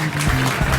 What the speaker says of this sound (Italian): che bel applauso